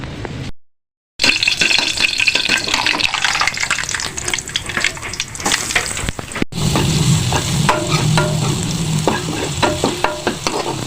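Mussels sautéing in a hot pan sizzle loudly and steadily, with stirring scrapes and a brief liquid pour or splash partway through, after a short silent gap at the start.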